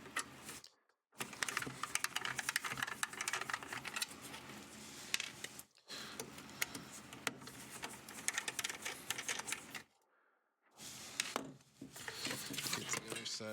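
Dense rapid clicking and scraping of screws being removed from a dead 500W EVGA power supply, close up, with a few brief silent pauses between stretches.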